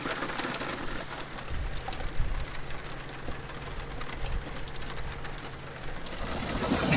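Cold rain falls steadily outdoors around a bus being repaired, a continuous broadband patter with low rumble underneath, fairly close and even in level, with no talking.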